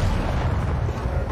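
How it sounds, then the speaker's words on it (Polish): Gunfire in Battlefield 2042, a dense, continuous low rumbling boom across the whole moment, loud and close, with no clear separate shot peaks. "Patrz, walę strzał."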